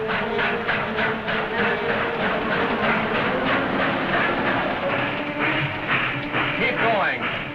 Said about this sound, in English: Faster, they're gonna board that train.